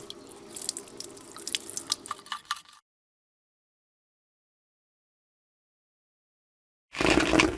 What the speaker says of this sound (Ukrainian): Промиємо в проточній воді.